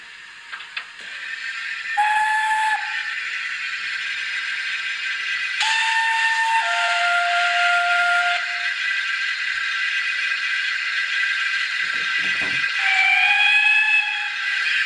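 Several shrill steam whistle blasts, some long and some short, from the DCC sound decoder of an N gauge model of 5029 Nunney Castle, sounding over a constant steam hiss, loud and close.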